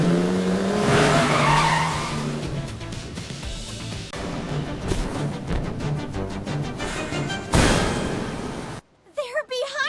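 A car chase from the Super Mario Bros movie, with tires skidding and squealing loudly over roaring engines and a busy action soundtrack, voices shouting beneath, then a sudden cut to near silence near the end.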